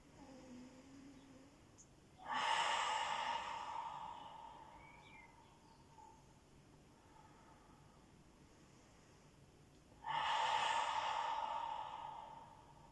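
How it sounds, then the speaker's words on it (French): Two slow, deep breaths during a vinyasa yoga flow, each a broad airy rush lasting a couple of seconds, clearly audible and close, with near-silence between them. "Prendre 3 respirations ici, 3 inspires par le nez, 3 expires par la bouche."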